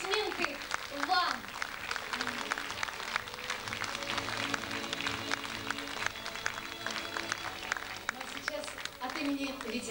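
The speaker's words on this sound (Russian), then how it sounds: "Эти аплодисменты вам!" Audience at a veterans' celebration gives sustained applause, with dense steady clapping throughout, music playing underneath and a voice or cheers mixed in.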